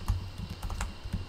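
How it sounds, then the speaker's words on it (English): Brief burst of typing on a computer keyboard while writing Java code for a print statement: a handful of close, soft key clicks in an uneven rhythm, heard alone. "We type"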